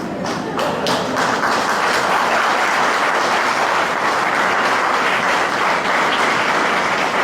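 A large audience claps steadily and densely without pause at a World Tourism Day celebration in Goa, with no voices heard over the applause.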